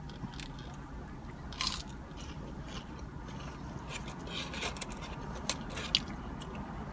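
Close crunchy bites and chewing of White Castle Mac & Cheese Nibblers, breaded and fried bites filled with mac and cheese, with soft crackles and a few sharper crunches over steady low background noise.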